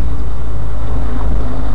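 A loud, steady car exhaust rumble at a spring tuning meet, a continuous low drone held close to the microphone with wind buffeting and no break.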